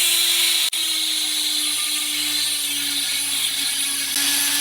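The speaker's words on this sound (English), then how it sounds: "It's spinning really fast for a drill bit." A Neu Master 180W rotary tool with a slightly wobbly drill bit spins at its slowest speed, a steady high-pitched motor whine with a constant tone, close and continuous, broken by one brief click near the start.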